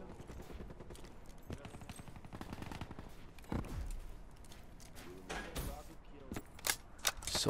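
Rapid gunfire from weapons in a multiplayer shooter video game, bursts of shots crackling repeatedly throughout with sharper louder reports near the end, mixed with game sounds and someone talking over it.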